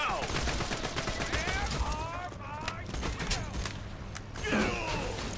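Borderlands 2 combat gunfire, rapid bursts and machine-gun-like rattles over busy game noise, with voices talking across the fight.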